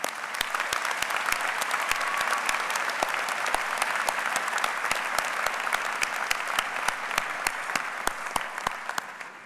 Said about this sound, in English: Please turn to them and give them a round of applause.